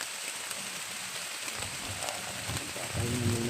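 Heavy rain pours down steadily in an outdoor setting, a dense, even hiss that thickens toward the end, with faint low rumbles underneath and no talking.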